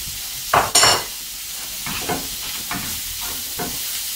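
Chipotle peppers are stirred into tinga poblana in a hot pan: two sharp scrapes and clinks of a spoon on the pan, then softer repeated stirring strokes over a low, continuous sizzle, close and alone without talk.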